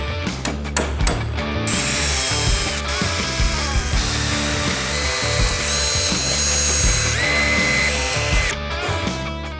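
A power drill grinds out rivets from the aluminium skin of an abandoned airplane, loud and close, with a few quick bursts before one long continuous whine with shifting pitch.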